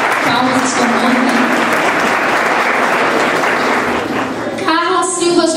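Sustained applause from an audience honoring graduates of an industrial sewing course at a certificate ceremony in Criciúma, steady and dense throughout, with a voice speaking over it near the end.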